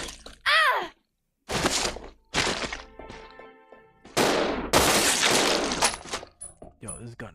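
Gunfire in Resident Evil Zero, heard as several loud, separate blasts spaced through the clip with quiet gaps between them, mixed with groans and other in-game sounds.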